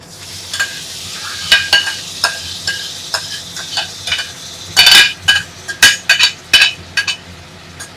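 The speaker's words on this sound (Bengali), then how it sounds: "ওই ভাজা পেঁয়াজগুলোর মধ্যে এই ম্যারিনেটেড চিকেনটা চলে গেল" Marinated chicken sizzling and frying in fried onions in a pan, with repeated stirring scrapes and light clinks of a utensil, loud and close, no voices.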